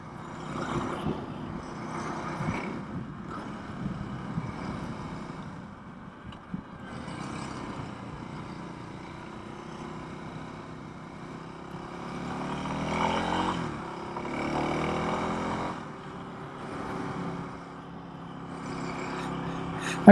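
A Kawasaki KLX 300 dirt bike ridden around a neighborhood, its single-cylinder engine droning and rising and falling through gears at moderate volume, with wind rush on the microphone throughout.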